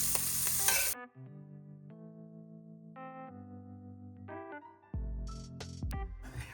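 Shrimp sizzling in a pan as they are lifted out, with a brief burst of frying at the start and again near the end, separated by a stretch of tonal, music-like sound.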